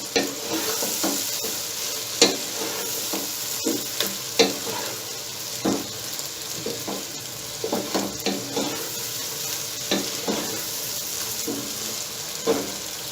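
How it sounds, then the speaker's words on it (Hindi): Goat brain (maghaz) frying with masala in oil, a constant close sizzle broken by repeated scraping stirs of a spoon through the pan. "इसको इसमें हम अब थोड़ी देर फ्राई करेंगे मगज़ को इस मसाले के साथ।"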